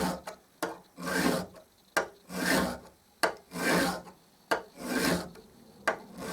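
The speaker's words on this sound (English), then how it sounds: "I can now just rub this along the flat." A metal wallpaper scraper blade rubs back and forth along a flat file clamped in a vise, giving six steady rasping strokes in an even rhythm, close and alone.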